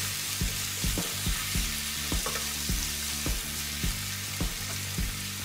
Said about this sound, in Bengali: তারপর আমি গুঁড়া মরিচ ও লবণ দিয়ে আবারও নাড়াচাড়া করে নিব